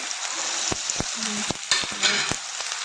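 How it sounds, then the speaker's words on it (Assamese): Boiled pasta is stirred into tomatoes frying in a pan, giving a steady sizzle with repeated sharp scrapes and knocks of a utensil against the pan, close and without talk. "সেইফালে পাস্তাখিনি মই সিজাই থৈছোঁ, সেইকেইটা ইয়াত দিলে"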